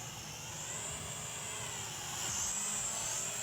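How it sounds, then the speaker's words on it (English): A Snaptain SP500 foldable GPS FPV drone flies overhead with a steady, high-pitched propeller whine that stays even and fairly loud, swelling slightly toward the end, with no voices. "Now here is one of my favorite shots I got of the drone, and I'm just flying it around."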